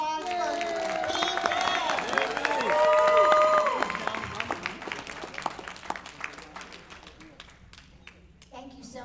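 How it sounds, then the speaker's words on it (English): A crowd at a DeKalb Democrats gathering claps and cheers for a departing guest. The applause swells with voices mixed in, then thins to scattered claps as talking continues. "One more big round of applause for Bea."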